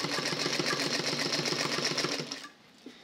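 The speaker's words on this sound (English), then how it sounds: "you're watching me sew just the way they sew in the industry" A sewing machine stitches a convertible collar at industrial pace, its needle hammering in a fast, steady rhythm up close for about two and a half seconds before it stops, leaving near silence with one small tap.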